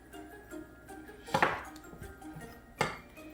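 A pastry cutter presses through cold butter and flour in a bowl, giving a few soft thuds and two sharper, clinking knocks against the bowl, quiet and close, with no talking.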